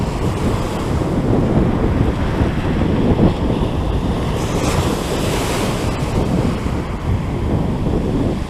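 Sea waves wash steadily onto the beach at Great Yarmouth, a loud continuous surf roar with gusting wind buffeting the microphone throughout and no voices.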